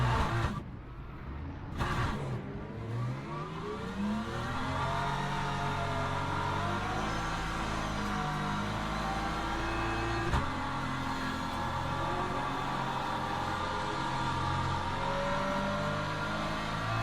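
A race car engine revs in the Le Mans Ultimate racing game during a multiclass session. The loud, continuous revving rises and falls in pitch and at times stutters as if lagging, with no talking over it.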